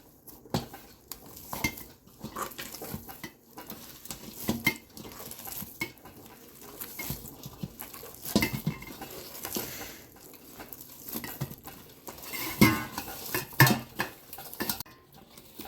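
Paratha dough being mixed with a tablespoon of oil in a bowl, giving close, irregular scraping and clinking of utensil against the bowl with soft squelchy stirring, steady throughout with no talking.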